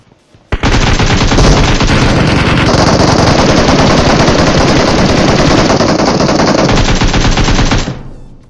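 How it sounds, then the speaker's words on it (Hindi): Automatic rifle fire in the battle game PUBG, a loud sustained burst of rapid shots lasting about seven seconds after a quiet start, then cutting off abruptly. "मैं स्मोक में पहले से गोलियां चला था"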